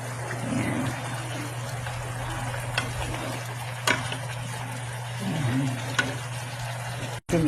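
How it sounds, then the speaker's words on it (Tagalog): Bangus (milkfish) simmers in a sauce of tomato paste and water, giving a steady, close bubbling hiss that runs throughout with a few faint clinks and no talk. "Hayaan lang natin kumulo yan para masipsip yung sauce."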